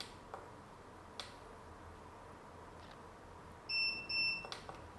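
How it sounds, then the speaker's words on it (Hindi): A Luminous Li-ON 1250 sine-wave UPS with a built-in lithium battery gives two short, clear electronic beeps as it switches from eco mode to UPS mode, over a quiet room with faint clicks. "इको मोड से यूपीएस मोड में चेंज हो गया 2 बीप साउंड के साथ में"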